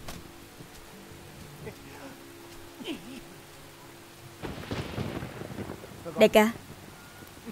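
Rain falling in a martial arts action film: a soft, steady patter with low rumbling underneath, and someone speaks briefly near the end.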